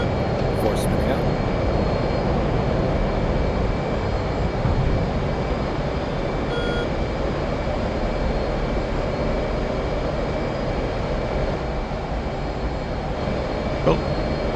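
Flight simulator jet engine spinning up, a steady, loud, continuous roar and whine that holds throughout with little change, with faint clicks and radio-like blips on top.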